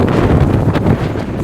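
Strong, heavy wind buffets the microphone in a steady, loud roar near a temple, with dense low rumbling and no talk.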